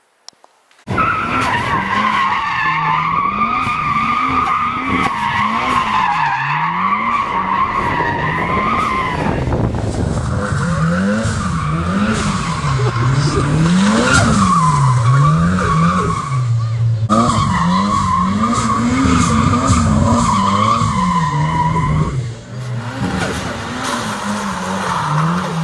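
A Toyota AE86 Trueno fitted with a Laile Beatrush under panel during driving practice, with tires squealing and skidding almost continuously for over twenty seconds over a wavering, revving engine note, loud and close, no talk.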